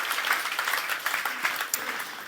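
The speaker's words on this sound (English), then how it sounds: "So let's give those people a round of applause, please." An audience at a web development conference claps steadily for the organizers, a dense, even patter of many hands filling the short moment without any voices.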